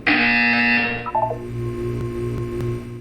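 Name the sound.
buzzer in the video game Portal 2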